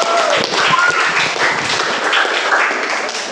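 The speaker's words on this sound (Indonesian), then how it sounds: "sangat patut kita berikan aplaus untuk kelompok 2" Applause for group 2 in a ninth-grade classroom, heard as a steady, loud patter of many hands clapping close by with voices mixed in.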